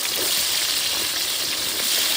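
Onions sizzle and fry in a pan over a wood fire outdoors while being stirred with a wooden paddle, a steady, bright hiss filling the scene with no talking.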